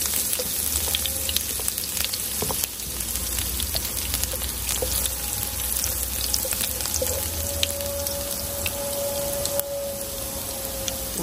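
Garlic sautéing in a pan for a Filipino-style fridge-cleanout stir-fry, a steady loud close sizzle with crackling spatters running throughout, no voices.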